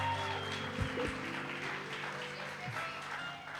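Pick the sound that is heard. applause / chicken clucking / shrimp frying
applause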